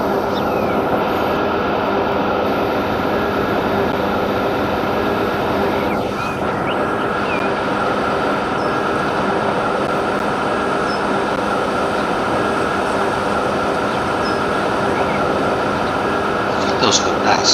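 Railway traffic in the Transport Fever 2 simulation keeps up a constant droning rumble and broadband hiss, unchanging for the full length, with a faint passing whoosh near the middle and no talking.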